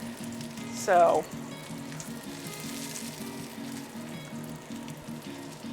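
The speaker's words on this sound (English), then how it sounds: "Let it render that extra fat, because that's quite a fat cap you have there." A lamb fat cap sizzles and renders in a pan with a soft, steady crackle, broken near the start by a brief louder sputter, while a voice speaks a single word.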